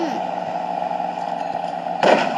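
Cannon fire from warships in the naval battle game Battle Bay, a steady rumbling battle din with a sharper burst of shots near the end.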